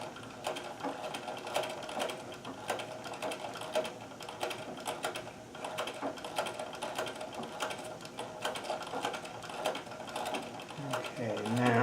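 A Singer 237 sewing machine does free motion embroidery, stitching in a rapid, steady mechanical clatter with ticking needle strokes that speed and slow slightly, close and continuous.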